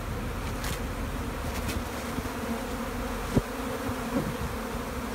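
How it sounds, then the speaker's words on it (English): Honey bees fly around their hives during a summer honey flow, with heavy traffic at the entrances. A dense, steady buzzing drone fills the whole stretch, close and continuous, with no talking. "You can see the bee inflow is quite substantial right now."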